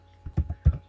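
Fingers tap out a short entry on a computer keyboard while working in Excel, four quick close keystrokes in an uneven rhythm, crisp and near with no talking.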